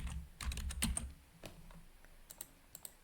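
Quiet, close computer keyboard typing of a chart title in an Excel dashboard, a quick cluster of key taps followed by a few scattered, slower presses.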